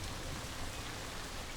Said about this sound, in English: raindrops are falling on the scorched grass